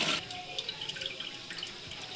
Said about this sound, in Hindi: चावल अब हम छान लेंगे।